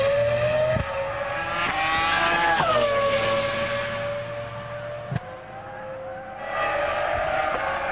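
A Formula One car at the 2002 Austrian Grand Prix practice session, engine note rising and falling through gear changes as it runs back toward the pits, loud and continuous with a sharp click midway.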